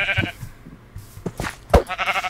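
A sheep bleats in a Minecraft-style video game, a few short nasal bleats close by, one louder cry near the end, amid game sounds.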